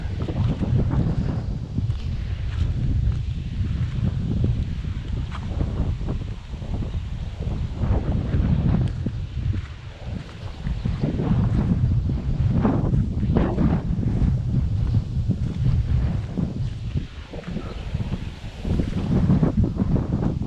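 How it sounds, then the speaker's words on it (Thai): Strong wind buffets across open rice fields in the countryside, a loud continuous roar with gusting surges and heavy rumble against the microphone throughout. "ลมแรงมากนะ"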